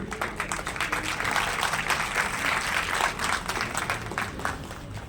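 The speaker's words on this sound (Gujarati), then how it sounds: "ખૂબ ખૂબ તાળીઓના ગુંજારા સાથે આ આગમનને વધારીએ" An audience at an awards federation ceremony in Gandhinagar, Gujarat, applauds as a guest arrives, with sustained, dense clapping of moderate loudness that carries on throughout without voices over it.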